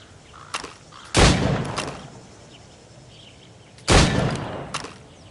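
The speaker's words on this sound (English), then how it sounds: "Go on. Shoot these targets." Two loud gunshots about three seconds apart as targets are fired at during a shooting drill in Assassin's Creed Rogue, each a sharp broadband crack with a short decay, with a few faint clicks between them.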